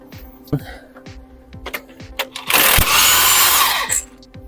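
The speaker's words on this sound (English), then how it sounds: "now we're ready to remove the crank pulley" A power tool spins off the crank pulley on a Peugeot Expert engine, a loud, close whirring burst of about a second and a half, with someone talking before it and scattered clicks and knocks around it.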